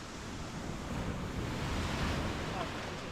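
Ocean waves rolling steadily at Praia da Agudela beach in Porto, a continuous broad wash of surf with wind buffeting the microphone, loud and close.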